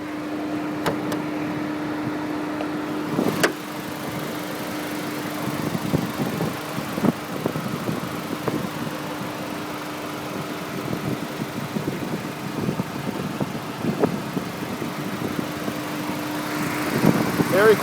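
A 2001 Audi TT Quattro turbo engine runs at idle in neutral with the hood open, a faint, very quiet steady hum with scattered small clicks and rustles.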